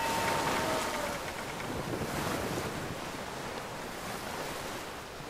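Ocean waves roll and wash at sea aboard a sailing ship in Assassin's Creed 3, a continuous broadband surge with wind noise, steady and fairly loud throughout with no talking.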